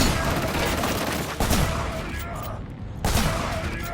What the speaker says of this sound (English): Weighty and sounds great as in the previous installment, although the fire rate is again too slow for a pump action shotgun